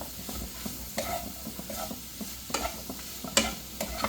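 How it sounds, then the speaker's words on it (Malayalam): Mushrooms with salt and ground pepper stirred and sautéed in a pan, a soft steady sizzle broken by scraping stirs and a sharp utensil knock near the end, close and alone without talk. "എല്ലാം കൂടെ നന്നായിട്ടൊന്ന് വഴറ്റിയെടുക്കാം കേട്ടോ."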